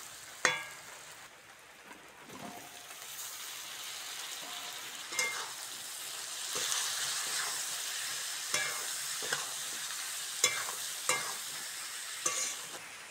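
Potatoes and onions frying together in a pan in a village kitchen, with a steady close sizzle broken by sharp scraping clicks from a spoon being stirred at irregular intervals.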